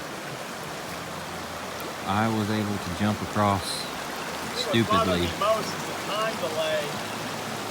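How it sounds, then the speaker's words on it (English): Steady rushing creek water runs throughout at a trail creek crossing on Kentucky's Sheltowee Trace, with someone talking over it partway through. "All right, another creek crossing."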